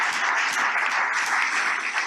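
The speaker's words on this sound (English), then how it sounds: "I'm just gonna clap for the awards because that's quite the package." An awards ceremony audience claps in a dense, continuous burst, loud and close, with no talking over it.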